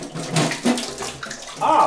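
Water is poured close by in a brief, splashy gush that rises and falls over a couple of seconds.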